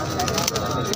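Pigeons coo softly amid the busy chatter of a crowded pigeon market in Bareilly, with voices mixing in the background.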